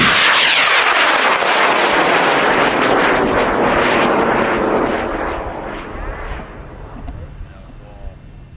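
A NERF 8 model rocket launches at a club launch, a loud roaring rush of motor thrust that starts at full strength and slowly fades as it climbs away into the distance.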